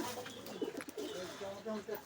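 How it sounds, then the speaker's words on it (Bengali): A dove coos softly while pecking at wheat grains, giving a few low, close calls, with a person talking over it. "দেখো বন্ধুরা, ঘুঘুটাকে খাবার দিলাম। ঘুঘুটা এসছে,"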